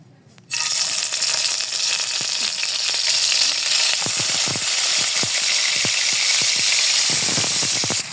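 Koi fish frying in hot oil, a loud, continuous sizzle that bursts in suddenly and keeps hissing steadily, with small crackles and pops throughout and no voices.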